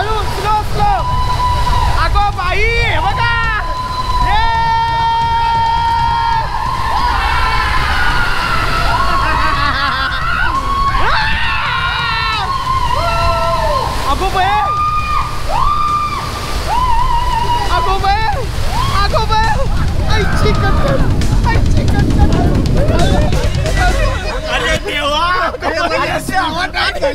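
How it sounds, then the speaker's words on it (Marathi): A car pushes through deep floodwater during a Mumbai festival outing, with a low churning slosh of water building toward the end, mostly buried under busy crowd chatter and a voice singing or calling out nearby. "बंपरच्या वर पाणी आलं"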